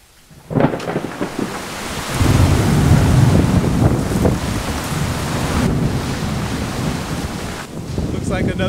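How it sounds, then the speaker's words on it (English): A thunderstorm at a boat yard brings a steady heavy roar of wind and rain with rumbling thunder building after a quiet start, loud and continuous throughout. "Another day of storms."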